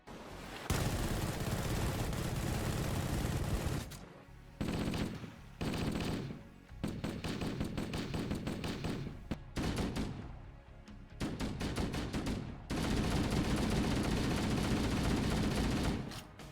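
MA5B assault rifle from Halo firing 7.62x51mm rounds, loud sustained full-auto bursts separated by short pauses, dense and close with no voices.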